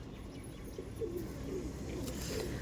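Giribaj Rajasthani pigeons coo softly nearby, several low, repeated coos overlapping against a quiet background hum.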